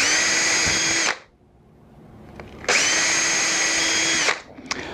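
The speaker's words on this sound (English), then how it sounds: "I want to drill 2 holes" Power drill boring holes into the legs of a wine barrel table: two loud, sustained whirring bursts, close by, separated by a quiet pause of about a second and a half.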